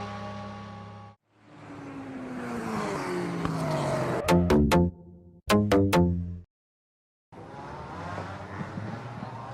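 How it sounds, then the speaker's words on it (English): WTCC touring cars on a formation lap in Macau, engines revving and shifting with rising whines, sharp repeated bursts as cars pass close, broken by short silent gaps. "cars on the formation lap now"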